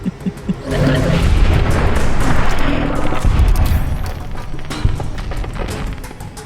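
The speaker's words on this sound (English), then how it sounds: "I like the sound of that gun." Gunfire in the video game Fallout New Vegas: loud, dense bursts of rapid shots and booms rumble for several seconds, with a few sharper cracks near the end.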